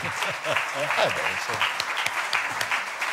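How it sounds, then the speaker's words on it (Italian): Applause for Don Dante Cesarini in a lecture hall, scattered audience clapping at moderate level with voices talking over it. "Era Don Dante Cesarini, qui davanti, vicino al professor Boncinelli. Ah, che merita veramente un applauso."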